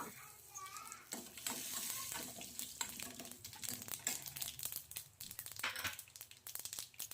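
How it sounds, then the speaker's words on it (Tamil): Mustard seeds crackle, sizzle and pop steadily in oil as they are stirred, with scattered sharp pops and spoon scrapes close by. "கடுகு போட்டு ஒரு கிளறு கலைக்கிறேன் கடுகு வெடிச்சதுக்கப்புறம்"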